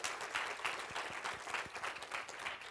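Soft, steady audience applause at a scientific symposium after a lecture, many hands clapping evenly in a room, fairly distant and quiet.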